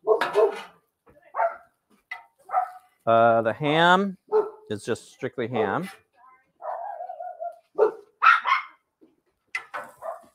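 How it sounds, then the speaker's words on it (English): Dogs bark in short, sharp bursts and a brief yelping run indoors, loud and close, mixed with a person speaking between and over the barks. "Sorry about my dogs, guys."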